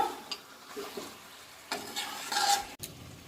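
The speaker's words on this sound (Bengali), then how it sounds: "আমি মাংসকে বেশ কিছুক্ষণ ধরে কষিয়ে নেব।" Goat mutton being stir-fried in a pan, with a few scraping, shuffling stirs and a soft sizzle in short bursts, close and moderately loud.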